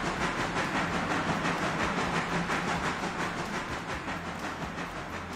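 A train locomotive rolls along the rails with a steady rumbling rush and faint rhythmic clatter, continuous and fairly loud, easing slightly toward the end, with no talking.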